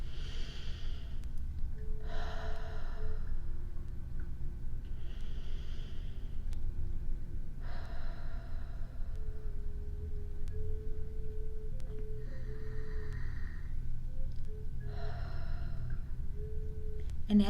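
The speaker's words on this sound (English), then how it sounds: "just kind of a calming sort of sigh." A series of soft, close sighing breaths, several gentle exhales spaced a second or two apart, quiet and calming over a low steady background hum.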